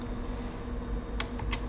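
A computer keyboard in a quiet room gives a few soft, close key clicks near the end, the last two coming in quick succession over a faint steady background hum.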